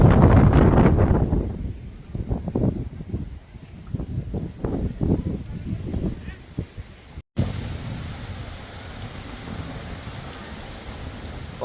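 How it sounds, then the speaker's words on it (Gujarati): Gusty storm wind roars outside a house at evening, loud rumbling buffeting at first, then a voice talks over lighter wind noise before a cut to a steady hissing roar. "પવન આવ્યો છે."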